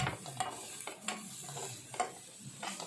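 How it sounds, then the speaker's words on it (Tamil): Onion and tomato being sautéed in a pan: soft repeated stirring scrapes of a spoon against the pan over a faint, quiet sizzle, close by and without talk. "வெங்காயம் தக்காளி வதங்குறதும் நல்லா வதக்கி விடணும்."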